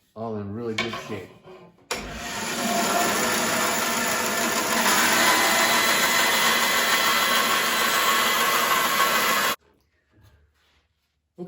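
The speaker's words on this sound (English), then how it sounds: "the next thing is just to go ahead and get these limbs cut out" A power tool cuts the limbs out of a wooden bow stave, a loud, steady whine and rasp that runs for about eight seconds before stopping abruptly, with brief handling sounds on either side.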